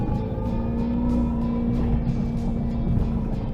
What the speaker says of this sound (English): Here's a little wheel spin.